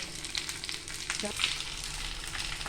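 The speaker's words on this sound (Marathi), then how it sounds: "इथे आता आपला बांगडा सायड फ्राय होता" Mackerel (bangda) fish sizzling as it fries in a pan, a steady close crackle and hiss that continues throughout with a brief stirring clink midway.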